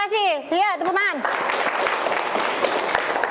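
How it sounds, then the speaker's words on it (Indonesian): Class applause during an Islamic lesson on social media etiquette: after a brief spoken line, a burst of clapping from many hands starts and continues steadily, moderately loud, to the end. "tepuk tangan"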